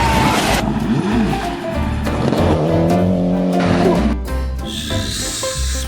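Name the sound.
toy rally car racing sound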